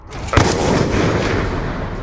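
A green Minecraft creeper blows up during a town attack, giving a sudden loud boom that settles into a sustained, rumbling roar of debris and noise lasting about two seconds.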